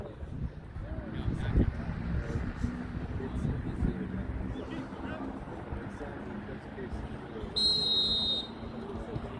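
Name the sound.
referee whistle blown at youth soccer game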